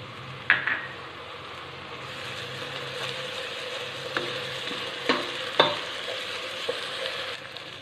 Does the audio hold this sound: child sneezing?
no